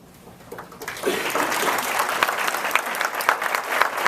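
Audience applause at a summit, rising from quiet into steady, sustained clapping from a sizable indoor crowd that fills the room for several seconds.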